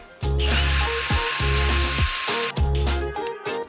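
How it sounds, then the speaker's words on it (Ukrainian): A Ronix cordless drill-driver runs steadily with a loud, continuous mechanical whir, its motor briefly pausing and restarting a few times. "Як чуєте, шуруповерт працює добре, без лишніх всяких звуків."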